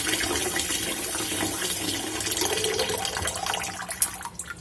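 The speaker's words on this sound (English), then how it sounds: "when this water here, as it's running, becomes clear" Tap water runs steadily over sushi rice being washed, a continuous close splashing flow with slight swirling variation and a brief louder splash near the end.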